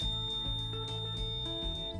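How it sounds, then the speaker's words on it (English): A thin, steady, high-pitched electronic buzzer on a model railroad's circuit breaker sounds continuously at low volume over a faint hum and soft clicks, triggered by a shorted track. "It comes on and the buzzer comes on."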